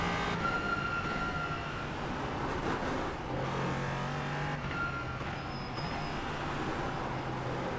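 An LMP3 race car engine in iRacing, driven at Suzuka in heavy rain, a steady droning engine note with spray noise throughout, shifting slightly as power is applied.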